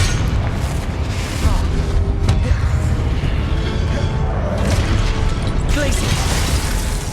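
Confringo blast spell in a Hogwarts wizarding video game, a loud, sustained booming explosion with crackling burst layers that swells and holds, close and heavy throughout.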